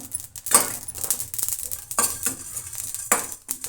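Fenugreek seeds frying in a pan for fish curry, with a steady close sizzle broken by repeated scraping and clinking of a spoon against the pan, no talking.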